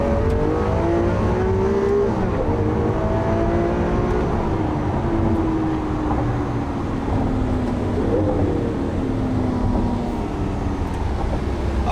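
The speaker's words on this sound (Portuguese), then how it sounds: "Vou acelerar aqui um pouco no esporte para vocês verem. Tentam perceber a velocidade da troca de marcha" A car accelerating in sport mode with rapid gear changes: loud continuous engine drone whose pitch climbs and drops several times as gears shift, up close throughout with no talking.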